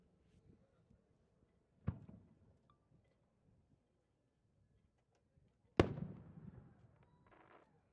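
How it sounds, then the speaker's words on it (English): A 6-inch aerial fireworks shell bursts with a sharp, loud boom followed by crackling and a trailing sizzle, preceded by a fainter launch thump about four seconds earlier, outdoors at a fireworks display. "Oh, it's a 6-inch shell from Barry McLean."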